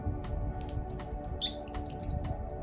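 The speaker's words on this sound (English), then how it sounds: "It's a bird call." Bird chirps sound in a few short bright bursts, the first pair sparse, then a quicker cluster of tweets, fairly close over a quiet indoor background with no talking.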